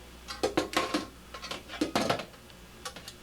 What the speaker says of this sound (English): Put the cover on.